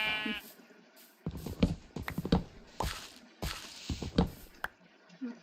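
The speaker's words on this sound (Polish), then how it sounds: "A jest owca na leczenie." Repeated sheep bleats from Minecraft, several short baa calls in quick succession, clear and fairly close, with light clicky noises between them.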